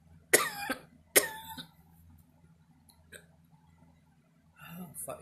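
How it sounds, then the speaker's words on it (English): A person chewing gum coughs twice in sharp close bursts, followed by a small hiccup-like catch and a soft breathy sound at the end, in a quiet room. "I almost died and I hiccup and cough."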